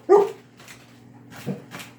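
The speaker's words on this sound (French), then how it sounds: "dès que t'as touché au céleri, le chien a commencé à japper" A dog barks twice indoors in a kitchen, short sharp yips close by with a brief pause between, over a faint steady hum, as celery is being cut.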